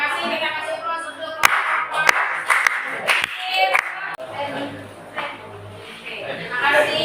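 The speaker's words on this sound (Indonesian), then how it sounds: "Kita kasih aplaus untuk" Audience clapping at a classroom language lesson, several sharp distinct claps standing out over ongoing talk and a noisy room, fading as speech continues.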